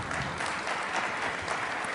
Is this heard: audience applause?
yes